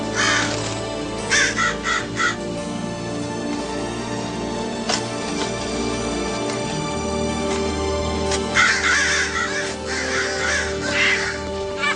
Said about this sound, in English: There's birds out there. Big ones.